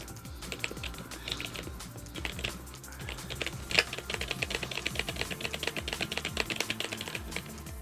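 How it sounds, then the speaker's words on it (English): Loud non-mechanical computer keyboard typing close to the mic, rapid irregular clacking keystrokes running continuously with brief pauses and a sharper tap midway, no voices. "Sorry for my clicky clacking in the keyboard. It's not even mechanical, it's just loud."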